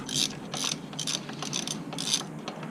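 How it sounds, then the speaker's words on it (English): A hand ratchet works the bolts on a 2001 Jeep Cherokee XJ, giving bursts of quick metallic clicking in repeated strokes, close and moderately loud, with no talk. "you're just gonna have a few of these bolts that we're gonna take off"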